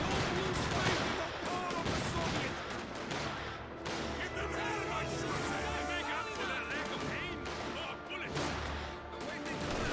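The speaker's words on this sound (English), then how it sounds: "Dishka does find the MG42, suppressing and forcing him back." Machine gun fire from an MG42 in Company of Heroes 2, loud and dense, amid a constant wash of battlefield gunfire and crashes, with a commentator talking over it.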